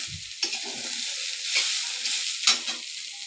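A vegetarian dish sizzles in oil in a pan while a spoon stirs it, with a few scraping strokes and clinks over a soft, steady frying hiss.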